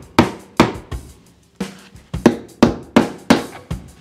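A non-pneumatic stapler drives staples through vinyl into plywood while a box cushion seat for a golf cart is upholstered. About ten sharp, loud thuds come at an uneven pace, each decaying quickly.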